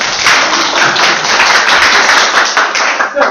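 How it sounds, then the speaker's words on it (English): A round of applause fills an indoor community talk on trans allyship in Malaysia, loud, steady and close, with dense overlapping claps running throughout and no talk over it. "we should give them a round of applause."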